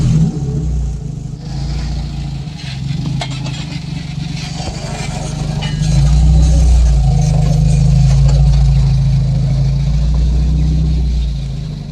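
Jeep with 4.88 gears idling and creeping down a steep dirt trail, a loud, close, low engine rumble that swells and fades with throttle, accompanied by crunching and rattling from the tires and chassis.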